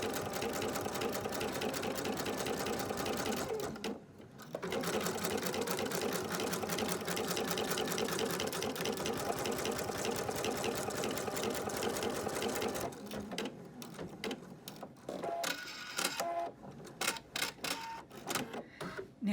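A sewing machine bastes applique fabric with a fast, steady needle chatter for several seconds, pauses briefly, runs again, then finishes in short stop-start bursts.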